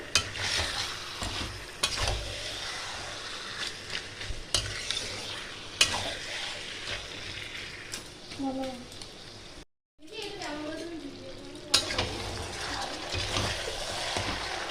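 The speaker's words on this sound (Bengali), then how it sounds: "এইটাকে আমি ততক্ষণ কষিয়ে নেব ততক্ষণ না ভালো করে কষে বা তেলটা ছেড়ে যায়।" Mutton stir-fried with spices in oil, a steady close sizzle with repeated spatula scrapes and rattles against the pan, a brief silent break partway through and a short stretch of voice.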